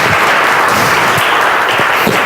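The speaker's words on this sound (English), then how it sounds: "Give Brooks a big round of applause coming up here" A crowd at a magician's show applauds a volunteer coming up to join him. The clapping is loud, close and continuous, with a few low thumps mixed into the dense wash of hands.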